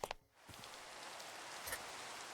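Minecraft rain falling as a soft, steady hiss of pattering drops, quiet and continuous after a couple of brief clicks at the start, with no voices.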